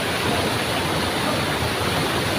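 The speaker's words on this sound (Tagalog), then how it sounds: "dumating na tayo sa ilog, sa falls" A waterfall pours into a river, producing a steady, loud, unbroken rushing roar close by with no voices.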